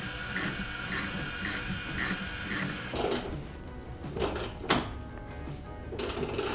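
Ratchet spinning nuts off the top of a damper on a classic Mini: close, busy clicking in rhythmic strokes at first, then faster continuous ratcheting with a few sharper clacks.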